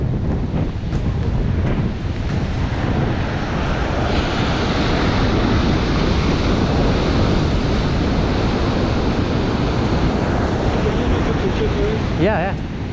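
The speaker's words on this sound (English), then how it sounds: "You guys gotta see these waves." Ocean waves break on a California shore in a continuous loud wash of surf mixed with strong wind buffeting the microphone.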